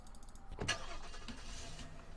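A car engine turning over and starting in the game Apocalypse Rising, a short crank burst followed by a steady low idle, fairly quiet and close.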